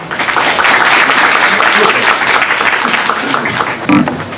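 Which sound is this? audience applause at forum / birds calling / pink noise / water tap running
audience applause at forum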